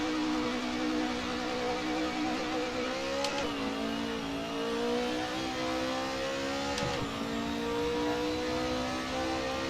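A touring car in the Assetto Corsa racing game drives down the pit lane on tall gearing, its engine giving a loud, steady whirring drone that dips and rises slightly with a couple of brief throttle blips.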